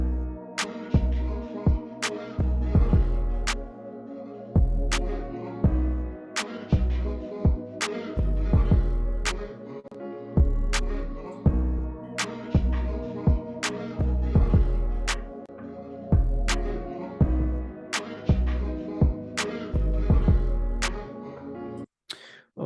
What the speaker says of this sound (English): I'm just going to push this clap a little bit, and then I'm about to add a reverb,